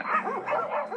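A dog gives a quick run of yipping barks and whimpering whines, loud and close, packed into about a second with no talking.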